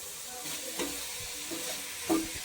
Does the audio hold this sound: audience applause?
no